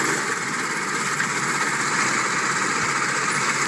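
Race car engines running before a Pats Acres league night race: a steady, loud, buzzing drone of several engines idling together, continuous and unchanging, with no voices.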